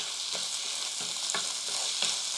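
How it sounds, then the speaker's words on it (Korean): Soaked glutinous rice stir-frying in sesame oil in a hot frying pan, a constant close sizzle broken by rhythmic scraping strokes of stirring about once every half second. "후라이팬이 충분히 달궈지면 아까 불려놨던 찹쌀 360ml 넣어주겠습니다. 볶아줍니다."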